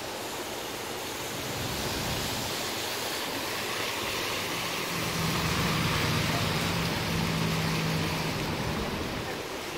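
A number 30 bus rolls along a rain-soaked road in the evening, a broad steady wash of tyre hiss and spray with a low engine hum swelling midway, heard from nearby.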